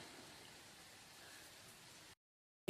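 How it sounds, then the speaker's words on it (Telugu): Steady rain falls outside a home on a morning, a soft continuous hiss that cuts to silence near the end before a short louder burst. "లైట్గా అంటే మరీ లైట్గా కూడా కాదు బాగానే పడుతుంది వర్షం"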